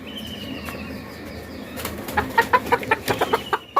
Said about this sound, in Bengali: কি সুন্দর মোরগ।